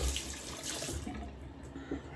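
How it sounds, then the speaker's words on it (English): Tap water runs into soap mixture for a coffee-scented soap, a soft, close, steady rushing stream that is quiet overall. "I'm gonna add a little water to this."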